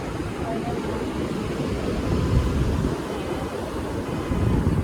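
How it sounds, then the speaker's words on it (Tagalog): Strong surf pounds a beach in a steady, loud roar of crashing waves, with wind buffeting the microphone and no talking. "Lakas ng wave today."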